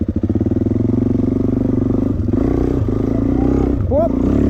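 Dirt bike engine labouring up a hill in first gear on a trail ride, a loud, close, steady throbbing drone with rising revs toward the end; no talk over it.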